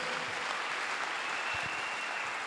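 A church congregation claps in praise to the Lord, a steady wash of applause with no break, moderately loud and heard from within the crowd.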